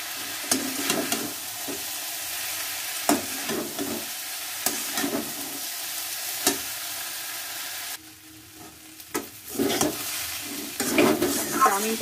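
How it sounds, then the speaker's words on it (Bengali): Chowmein stir-fried in a pan gives a steady sizzle with repeated sharp clacks and scrapes of a utensil against the pan, close and moderately loud, with a brief quieter stretch midway. "চাউমিনটা আমার ভালো করে ভাজা হয়ে গেছে।"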